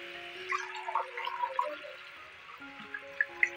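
Water is poured into rice in a pressure cooker for mutton biryani, making a faint trickle with small drips and splashes. Soft sustained background tones run underneath.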